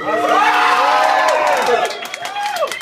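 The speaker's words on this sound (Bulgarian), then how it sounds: "Моля аплодисменти" A loud crowd cheers and whoops with excited high shouts, a few claps mixed in, the roar steady throughout.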